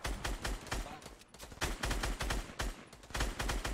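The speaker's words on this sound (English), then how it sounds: "Just keep shooting. Do not stop shooting." Rapid bursts of golden-gun fire in a Fortnite battle royale, loud cracking shots in dense, pulsing volleys with short gaps between them.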